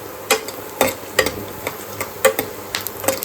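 Chana (gram) frying over a low flame for puliyogare, heard as a steady quiet sizzle broken by regular sharp stirring scrapes and clinks about every half second, close by, with no talking.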